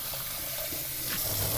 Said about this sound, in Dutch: Waterkraan open, afspoelen en weg.